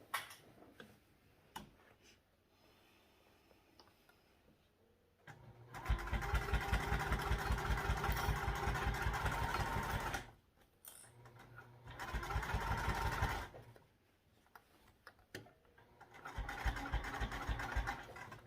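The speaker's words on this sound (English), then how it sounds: "We'll be sewing this on at a 1/4 inch seam allowance." A sewing machine stitches backpack fabric at a quarter-inch seam, running in three close, steady bursts of rapid ticking whir separated by quiet pauses.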